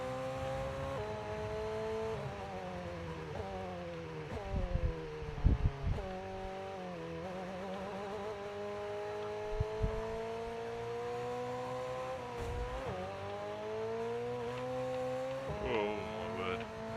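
McLaren Formula 1 car in the F1 23 video game, its engine whining steadily with rising and falling pitch through gear changes, plus a few brief tire squeals and knocks along the way.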